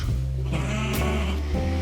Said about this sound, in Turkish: K harfinde koyun seçtik. Koyun besleyeceğiz, koyun bakacağız.